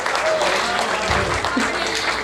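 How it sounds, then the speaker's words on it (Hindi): An audience at a Hindi kavi sammelan applauds poet Anil Sanwariya, a dense, steady patter of clapping across the whole stretch, mixed with some voices. "ताली हो जाए।"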